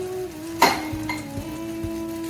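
A beaten egg poured slowly into a hot pan sizzles at close range, with a sharp clink of a pan or utensil near the start and light scraping afterward.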